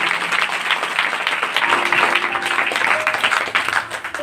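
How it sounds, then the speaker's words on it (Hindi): A church congregation claps together during a sermon, a loud, busy patter of many hands with a few voices calling out underneath, holding steady before easing slightly at the end. "ताली बजाएं खुदा की"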